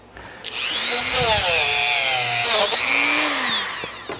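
A small drill grinds rust off the valve edges of a stuck Honda CX500 engine. Its close, steady high-pitched whine lasts about four seconds and rises and dips slightly in pitch.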